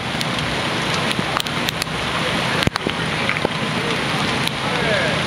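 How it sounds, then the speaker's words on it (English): Steady pouring rain at a campground, drumming on a tarp with water running off, a dense continuous hiss broken by occasional louder drips and knocks, close and loud throughout. "there's our pouring rain out here."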